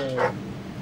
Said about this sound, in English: The perfect dog noise.